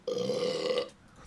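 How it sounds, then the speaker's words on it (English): A single drawn-out, croaky burp sits in an electronic drum-and-bass style music track. It lasts just under a second, then cuts off into quiet. "The burp."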